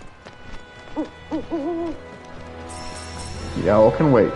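An owl hoots in the video game Final Fantasy 7 Rebirth, a few soft wavering calls early on and then louder, overlapping hoots near the end over a quiet game soundscape with a brief chime.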